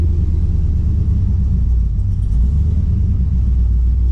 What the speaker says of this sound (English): we're going to go ahead and let the car warm up